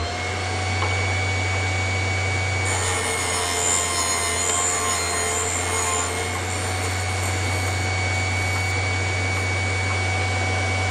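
A Vevor drill sharpener grinds a drill bit. A steady motor whine hums throughout, with a brighter, rasping grind rising for a few seconds early on before settling back to the running tone.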